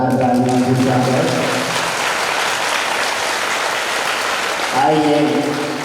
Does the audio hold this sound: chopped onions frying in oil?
no